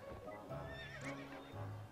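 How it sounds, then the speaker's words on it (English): Horse neighing in the video game To the Moon, a single faint whinny with hoof clip-clops against a low, steady game background. "Don't not ride this horse."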